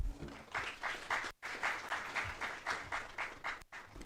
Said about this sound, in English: Can we have a huge round of applause for the two conferences, please?